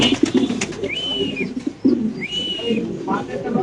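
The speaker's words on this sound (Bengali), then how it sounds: "অরিজিনাল ইন্দোনেশিয়ান মুন্ডিয়ান কবুতর মাশাআল্লাহ। দেখেন নরের ডাক" A male Indonesian Mundian pigeon coos nearby in two drawn-out, slightly rising calls, mixed with low murmuring and rustling sounds from other birds in the loft.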